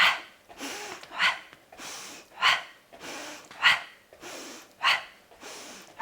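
Rhythmic exercise breathing during a workout with a ball and band, about five sharp, close inhale-exhale bursts coming roughly every 1.2 seconds with short quiet gaps between them and no talk.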